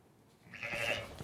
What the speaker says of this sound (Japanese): 一生懸命立ち上がろうとする羊の赤ちゃん